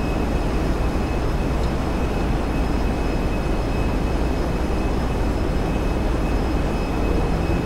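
Steady, dense roar of a plane's engines throttling up for takeoff on a runway in the game GTA 5, loud and unbroken throughout, with a thin high whine running over it and no talking.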